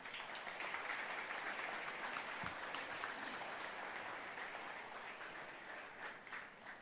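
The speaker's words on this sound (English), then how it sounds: "we need to give him a loud round of applause" Faint, distant applause from a conference audience greeting a keynote speaker as he walks on stage, a steady wash of clapping that holds for about seven seconds.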